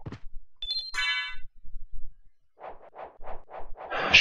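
A phone notification gives a quick two-note chime and then a brighter ringing ding, clear and close, followed by a run of soft rhythmic taps.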